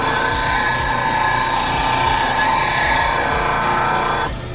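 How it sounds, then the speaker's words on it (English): A double-ended negative rake scraper is sharpened against a running powered sharpening wheel, giving a steady, loud grinding hum with a rhythmic rubbing scrape throughout, which cuts off abruptly at the end. "let's go ahead and turn this thing on, and I'll show you how to sharpen this tool"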